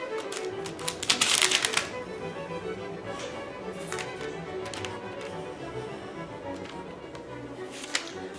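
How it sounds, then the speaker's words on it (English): A butter knife cutting Mexican candy into small squares, with soft, close taps and scrapes on a board in an uneven rhythm, including a brief quick flurry of chops. "just start cutting it into little squares. I'm just using a butter knife"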